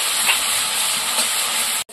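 Onion-garlic paste poured slowly into hot oil with black cumin, giving a loud, continuous broadband hiss of frying that holds steady before cutting off abruptly at the end.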